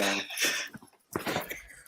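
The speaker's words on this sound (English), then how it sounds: "You did a wee cough there" A short, soft cough, then a brief pause and a second small burst, close and quiet.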